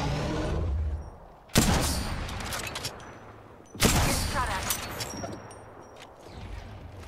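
Gunfire in the Apex Legends battle royale game: two sharp loud bursts of shots, the first about a third of the way in and the second near the middle, each trailing off over steady game ambience.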